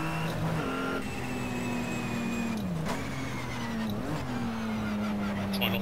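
A car engine revs hard through the gears on a racing lap, a loud continuous drone that climbs in pitch, dips briefly at shifts around the third and fourth seconds, then holds high again.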